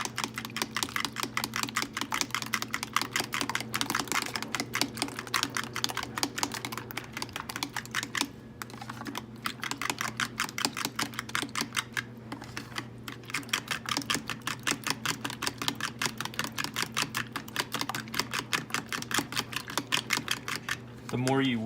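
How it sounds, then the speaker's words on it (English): Eggs being whisked, a fast steady rhythmic ticking of the whisk against the bowl that continues nearly unbroken for the whole stretch, close and moderately loud over a low hum. "The more you whisk it, the fluffier the eggs will be too."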